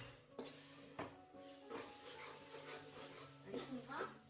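Biryani masala paste is stirred in a pan for mutton dum biryani, with quiet scraping and occasional spoon-on-pan knocks over a faint low sizzle, fairly soft and close.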